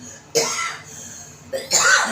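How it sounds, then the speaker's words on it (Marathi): A woman coughs twice in short bursts, choking on green chilli fumes while making pani puri, close and fairly loud in a quiet kitchen. "हिरव्या मिरचीचा मला ठसका गेला"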